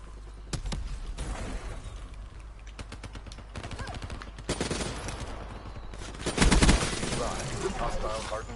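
Gunfire in the video game Call of Duty: Black Ops 3, in loud rapid automatic bursts and clustered shots, with heavier blasts near the end and voices mixed in.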